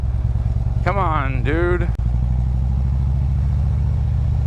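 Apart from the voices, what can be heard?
motorcycle engine idling going up a hill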